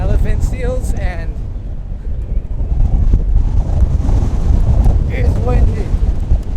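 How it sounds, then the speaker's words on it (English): Strong wind blasts across the microphone on the coast near San Simeon, a loud continuous low rumble with gusting buffets and faint voices in the background. "it's windy"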